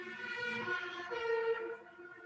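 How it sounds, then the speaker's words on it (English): A European fire truck siren wails past in a steady two-tone pattern, loud and close, its pitch sweeping before it fades slightly as the vehicle moves on. "Sorry, fire truck. I love the European sirens."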